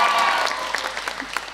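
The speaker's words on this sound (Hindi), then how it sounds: "मैं दोबारा आप लोगों के लिए तालियां बजाना चाहूंगा" Studio audience applause on a talk show, a dense wash of many hands clapping that fades slightly toward the end, with a faint voice briefly at the start.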